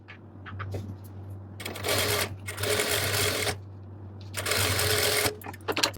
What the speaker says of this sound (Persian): حالا میایم این دو تا درز رو، درز بزرگمون رو از بالا تا پایین میدوزیم